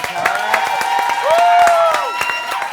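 Scattered claps and crowd noise at a live concert by a Thai band, mixed under sustained musical tones and voices.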